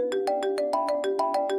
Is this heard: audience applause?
no